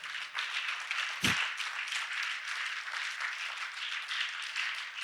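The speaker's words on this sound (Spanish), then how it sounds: "Dale fuerte el aplauso" A church congregation applauds a sermon about a present father, a dense steady wash of clapping from many hands, fairly distant and even, with one low thump near the start.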